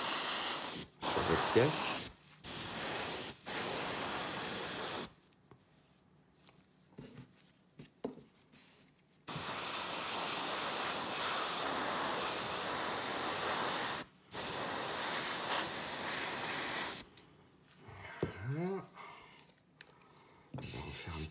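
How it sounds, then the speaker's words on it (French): An airbrush sprays white paint onto an ice dragon model in a series of steady hissing bursts of varying length, some short and several long, with someone speaking French in the pauses between them. "peinture dans mon godet de mon aérographe"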